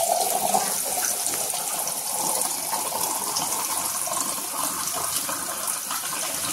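Water pours steadily from a water machine with a continuous, fairly loud gushing rush. There are no breaks and no talking.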